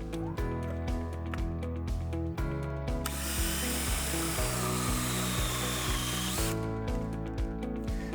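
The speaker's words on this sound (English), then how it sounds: "Here we have our patented taper hole saw attached to a standard drill." A taper hole saw spun by a standard drill grinds through a drywall wall, a loud steady whirring cut with harsh broadband rasp in the middle stretch, steady motor drone before and after.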